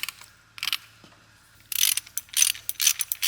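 A ratchet clicks in short bursts, then in fast repeated runs, as a mechanic works loose the timing chain tensioner on a Mercedes GT63s engine during teardown; close and loud with no talk.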